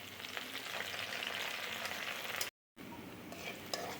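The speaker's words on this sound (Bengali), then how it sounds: "কিছু তেল গরম করে তার মধ্যে পেঁয়াজ কুচি দিয়ে নিচ্ছি" Chopped onions fry in hot oil with bay leaf, cinnamon, cardamom and cloves, giving a dense, even sizzle close by that cuts out for a moment before resuming.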